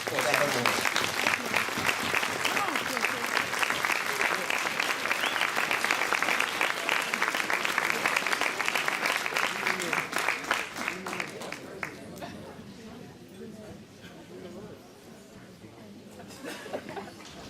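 Sustained applause from a gala audience honoring a Congresswoman, a dense steady roar of clapping that fades after about twelve seconds into scattered claps and murmuring.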